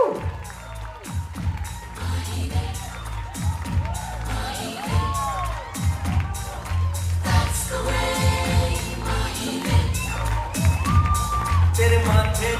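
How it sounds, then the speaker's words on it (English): Party crowd at a family celebration cheering, whooping and applauding, lively shouts and claps rising and falling over loud background music with sweeping tones and thumping beats. "Big round of applause for Nishant and Sanket"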